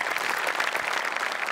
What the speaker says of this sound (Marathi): आपले सचिन गोस्वामी सर होते त्यांचं होतं ते एकदा जोरदार टाळ्या त्यांच्यासाठी झाल्या पाहिजे